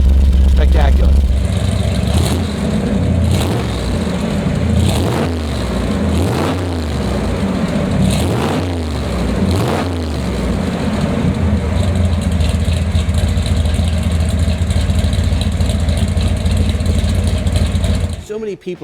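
A restored 1972 Chevrolet Corvette Baldwin Motion with a 425hp engine idles close by in a steady low rumble, with a voice talking over it much of the time.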